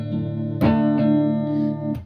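A single chord strummed on a ukulele, close and bright, with one stroke that rings out and then a second strum near the end.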